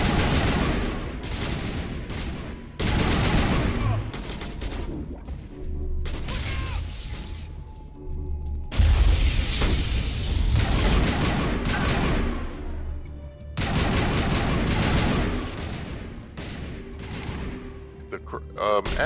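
Gunfire in Mass Effect comes in repeated loud bursts of rapid shots with mechanical clatter, broken by short pauses while a person talks over the action.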